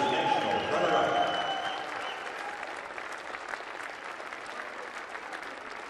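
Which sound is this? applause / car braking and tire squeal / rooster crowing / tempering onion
applause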